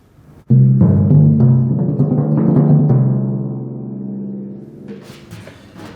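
A timpani roll of rapid, evenly spaced sextuplet strokes rings out loudly and alone, with a booming low pitch that gradually fades, and a few sharper double-sticked taps near the end.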